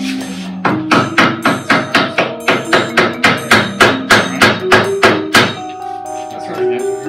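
Rapid series of loud, ringing metallic hammer blows on a Polaris RZR Turbo's metal cage, about twenty strikes in steady rhythm, close by with a resonant clang after each hit.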